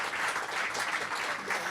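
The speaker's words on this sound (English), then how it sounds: "could you please join me in a round of applause for Senator Sarah Hanson-Young and Dr. Emma" Brief audience applause at a panel discussion, a dense wash of clapping from a crowd, fairly loud and even across its short length.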